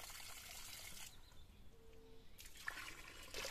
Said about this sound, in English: The water is flowing downward and coming out from this opening.